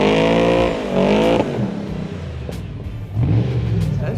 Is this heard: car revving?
yes